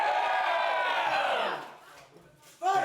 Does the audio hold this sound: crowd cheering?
yes